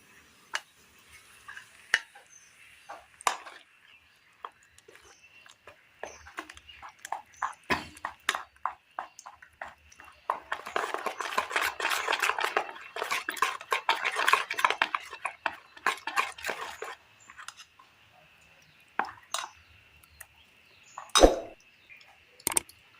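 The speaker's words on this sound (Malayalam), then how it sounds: "ഇനി ഇത് നന്നായി ഒന്ന് ഇളക്കി കൊടുക്കാം" A spoon stirs a dry mix of wheat flour, semolina and salt in a bowl, irregular scraping and clinking taps that build into a denser burst of rapid stirring mid-way, then scattered knocks.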